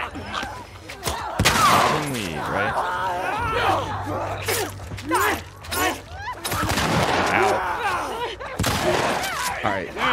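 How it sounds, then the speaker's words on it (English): Pistol shots ring out in The Last of Us Part II amid fighting with infected, several sharp cracks scattered through dense game action with groans, shrieks and an excited voice talking over it. "Using my pistol."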